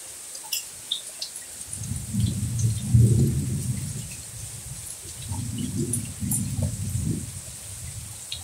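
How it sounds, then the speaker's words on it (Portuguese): Thunder rolls through heavy rain in Brejo Santo, Ceará, two long low rumbles swelling and fading over a steady hiss of falling rain, with no voices. "Acredito que vocês estão ouvindo aí os trovões"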